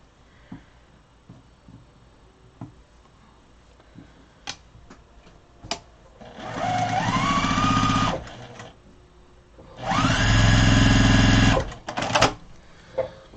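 Sewing machine stitching a new side-seam piece onto a large grocery tote bag made of white, grungy-colored fabric, running in two loud bursts of about 1.5 to 2 seconds each, separated by a pause, with faint clicks and handling around them.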